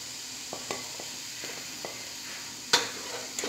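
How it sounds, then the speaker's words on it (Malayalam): Chicken kothu porotta with chilli powder and garam masala being stirred in a hot pan, a steady low sizzle broken by a few scraping spatula strokes and one sharp clink, no talking. "ഇപ്പം നന്നായിട്ടൊന്ന് മിക്സ് ചെയ്യാം."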